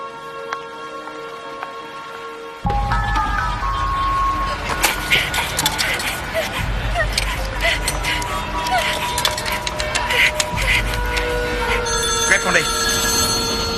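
A telephone rings repeatedly in a dramatic scene, electronic rings sounding over loud background noise and a music score, with voices speaking around them.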